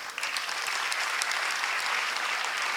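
An audience applauds at a literary festival session in Haryana, steady massed clapping with individual claps standing out, moderately distant and continuous.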